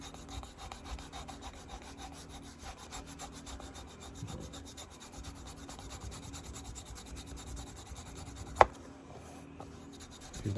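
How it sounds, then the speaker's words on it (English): Leather keychain being burnished on its back side with steady rubbing, a continuous soft friction texture close up, with one sharp click near the end. "You can also burnish the back, see? Make it smooth back here."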